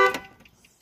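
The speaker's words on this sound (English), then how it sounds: "your truck is gonna go ahead and honk." A single short honk from the horn of a 2004–2015 Nissan Titan pickup sounds as it is locked with the key fob, a brief bright toot that quickly fades into near silence.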